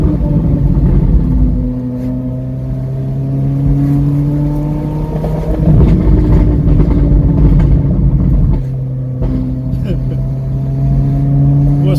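A deep supercar engine rumbles and revs in rising and falling sweeps at a gas station, loud and close, cracking and popping with bursts of throttle and a steady idle between them.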